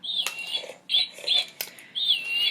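A small pet bird chirps in several bursts of bright, high whistling notes with short gaps between them, close and fairly clear.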